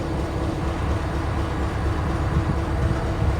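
A Norfolk Southern freight train rolls past in Columbus, Ohio, giving a loud, continuous broadband rumble of wheels and cars with steady intensity and no pauses.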